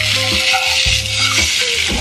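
Egg frying in a pan while being flipped, with a loud, close, continuous sizzle and scraping spatula strokes.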